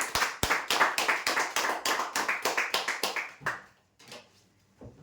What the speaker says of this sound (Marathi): आजच्या ड्रॉचे सर्वात शेवटचे विजेते जोरदार टाळ्या होण्यासाठी